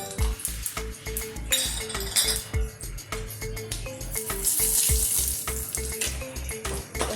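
Mustard seeds, cumin, curry leaves and dry spices sizzle in hot oil in a pan for Gujarati mag-bhat, a loud crackling fry over a steady rhythmic thumping beat, with metal clinks scattered throughout.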